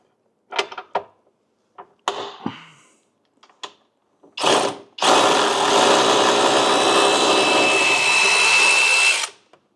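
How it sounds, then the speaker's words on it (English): A ratcheting end wrench at work on a 2024 Can-Am Outlander 850 ATV gives a few short clicking bursts, then a long, loud, steady whirring stretch of several seconds, close by, with no speech. "Ratcheting end wrench."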